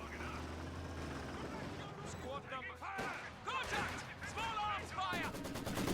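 A three-star Maxim machine gun fires in a war video game, crackling bursts of rapid shots over rumbling engine noise while a commentator talks throughout.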